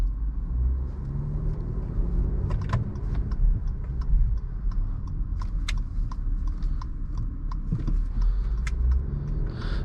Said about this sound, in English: we're gonna take it out on a little drive here